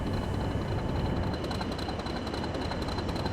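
Class 40 diesel locomotive in Train Sim World 2020 pulling a goods train under about 30% throttle, a steady loud low engine drone with a faint high whine running continuously throughout.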